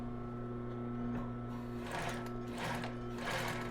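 Sewing machine running a small zigzag finishing stitch on lace underwear, a steady close motor hum with rapid rhythmic needle clatter that rises in short bursts.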